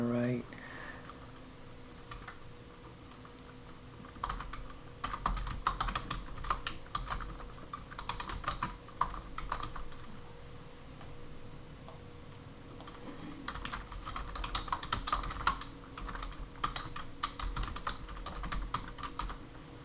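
Steady typing on a computer keyboard, a dense run of close key clicks in bursts with short pauses, while a voice talks over it at times.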